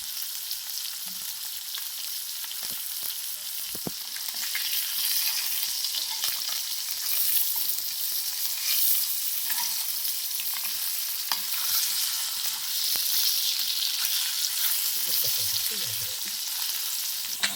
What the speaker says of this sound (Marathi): चितलांडी मासे पूर्ण फ्राय करून झालेत